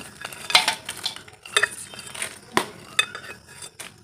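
Flattened rice is mixed with curry leaves, peanuts and fried chillies, heard as close scraping, stirring and clinking of a spoon against the pan in short uneven bursts over a faint sizzle.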